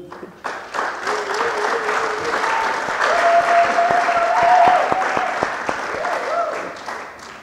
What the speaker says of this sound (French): je vous demanderai d'applaudir pour vous-même.